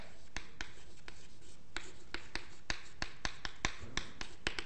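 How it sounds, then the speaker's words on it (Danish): Chalk writes on a lecture-hall blackboard in quick, sharp taps and short scratchy strokes, a steady irregular rhythm heard alone and fairly faint. "Jeg skriver litt kortere versjon på tavla."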